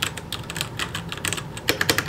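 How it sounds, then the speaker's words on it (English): Quick, light clicking keystrokes on an LED-lit mechanical keyboard in a college dorm room, a steady patter of close taps with a few sharper clacks near the end. "my mechanical keyboard"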